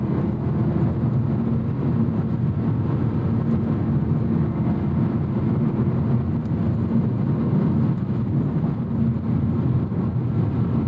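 The V8 of a 2010 BMW M3 E90 drones steadily from inside the cabin while driving, a loud constant low rumble with road noise and no shifts or revs.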